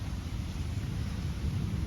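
Thunder from a July thunderstorm over Metz, France, heard as a steady, heavy low rumble that fills the whole stretch, with wind buffeting the microphone and no voices.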